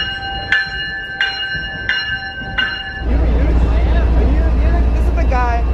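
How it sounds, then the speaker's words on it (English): A station bell rings four times at an even pace. A heavy rumble then swells as an MBTA South Coast Rail train pulls in on its first trip, with screeching and squealing high in the sound. Crowd voices carry underneath throughout. "That's the train."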